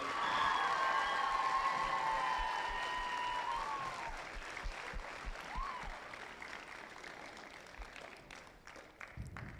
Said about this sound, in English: Let's give them a big round of applause for their dedication.